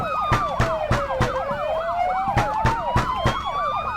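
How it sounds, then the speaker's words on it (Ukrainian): A police siren in The Floor Is Breathing video game, a loud, close wailing and yelping tone that sweeps up and down continuously, with sharp rhythmic clicks or beeps pulsing over it. "Опа, поліція приїхала"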